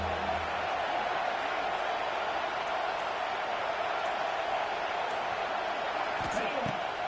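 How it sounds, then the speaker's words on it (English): A steady, loud roar from a college football stadium crowd rises and holds without a break through the whole stretch. "This crowd rising up, sensing that its defense needs some help."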